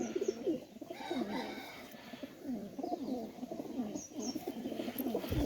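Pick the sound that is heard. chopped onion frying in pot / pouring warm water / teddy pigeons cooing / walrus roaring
teddy pigeons cooing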